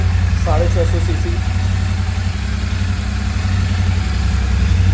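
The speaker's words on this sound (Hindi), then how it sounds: "अब एक बार ये सुपर मेटॉर बाइक अपनी आप देखेंगे, इसमें double silencer, powerful engine, 650 CC" A Royal Enfield Super Meteor 650cc twin-cylinder motorcycle with twin silencers idles steadily nearby, a constant low engine throb filling the clip while a voice talks briefly over it.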